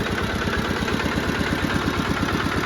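Small Kubota KRT-140 walking tractor engine idling close by, a steady, rapid low chugging pulse with constant vibration throughout, no voices.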